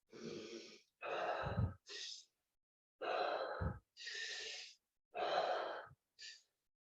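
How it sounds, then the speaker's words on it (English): Deep, forceful breaths in and out follow a steady rhythm, close and loud with brief silences between them, as part of a Neville Goddard breathing technique. "you get into the rhythm of the breathing"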